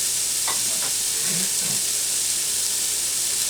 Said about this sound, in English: So I'm going to take my chicken and turkey sausage, throw it in there, and get a nice little browning on it.